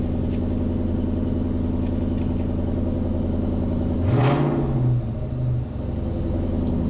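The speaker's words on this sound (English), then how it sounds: "Rev's clean as can be now." A Ford Mustang engine with Holley EFI runs on a dyno, holding a loud, steady rumble before one sharp rev swells near the middle and then settles back to idle.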